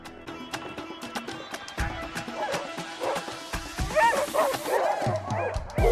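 Sled dogs bark, yip and whimper in overlapping excited bursts, close and busy, with people talking among the dog noise.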